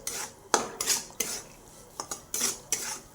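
A spoon scrapes and clinks against a pan as plain semolina is stirred and roasted to a reddish colour for moong dal halwa, in several sharp separate strokes, close and fairly loud, with no talk.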